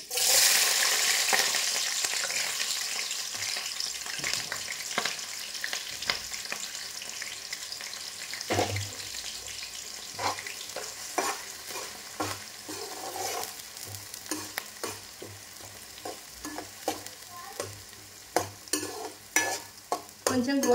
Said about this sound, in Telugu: కొంచెం గోల్డెన్ కలర్లోకి వచ్చేంత వరకు వేయించుకోవాలి